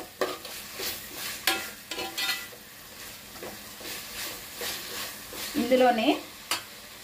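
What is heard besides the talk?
tomato slices frying in a pan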